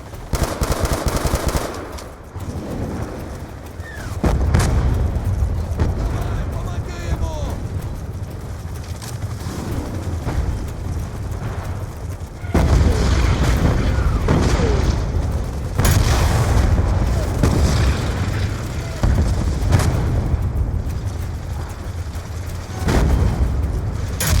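Rapid machine-gun bursts and deep booming explosions from tank combat in the video game Call of Duty Black Ops 2, loud and nearly continuous across the battle, with short gaps between heavy blasts.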